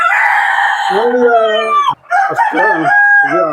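Country chickens on a small poultry farm in Udupi district: a loud, close rooster crows in a long drawn-out call, followed by further clucking and crowing calls overlapping, with no talk.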